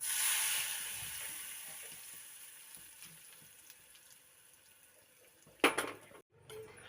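Fried tempering is poured from a pan into a mango dish: a soft sizzle that slowly fades, then a sharp clatter of the pan and a brief hiss near the end.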